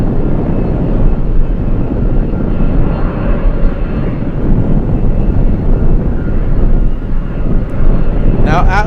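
A Boeing 767 cargo jet at Anchorage airport produces a loud, steady engine roar, close and continuous throughout, with a brief chirping sound near the end.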